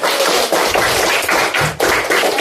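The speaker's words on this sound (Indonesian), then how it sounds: "tepuk tangan untuk kita semuanya" Schoolchildren in an elementary classroom clap their hands together in loud, bright bursts, several rhythmic rounds of group clapping close by with brief gaps between them.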